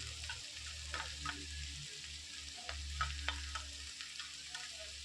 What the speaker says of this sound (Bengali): এটাকে একটু নাড়িয়ে নিয়ে এর মধ্যে দিয়ে দিচ্ছি কুচানো কাঁচা লঙ্কা